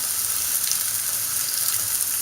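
Rump steak sizzling steadily in a very hot pan, a loud, constant, even crackle and hiss with no one speaking.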